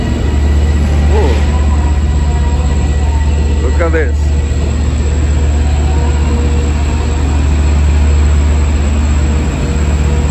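Express train bound for Penn Station in Manhattan, a loud continuous low rumble and drone filling the whole stretch, with a person speaking briefly over it.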